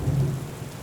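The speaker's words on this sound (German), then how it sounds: "aus der Ferne hörst du leises Donnern" Low distant thunder rumbles under a steady wash of rain, with drops tapping on window glass; the rumble swells at the start, then fades into the continuous patter.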